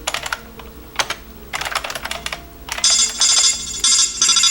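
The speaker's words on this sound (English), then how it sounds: "That's my phone." A phone plays a Metal Gear Solid alert-style ringtone, a bright electronic chime repeating in short bursts over the last two seconds, preceded by close, rapid clicking on a computer keyboard while typing; no voices.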